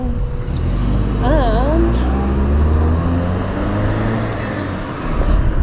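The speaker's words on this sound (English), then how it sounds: "Wait for a car to go past" Car driving past on a road, a loud close rumbling whoosh that swells and fades under a runner's brief talk, with steady traffic noise behind.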